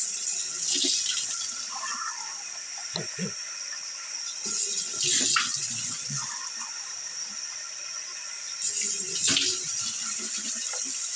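Running tap water rinsing soap lather out of a mustache, a continuous hissing splash that swells and fades as hands move through the stream, close by, with brief murmured speech.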